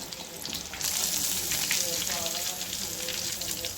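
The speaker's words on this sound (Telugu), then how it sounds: "అలా వేపించుకోవాలండి ముక్కలన్నీ" Fish pieces fry in oil with curry leaves, a soft sizzle that swells into a fuller, steady crackle after a second and carries on close by.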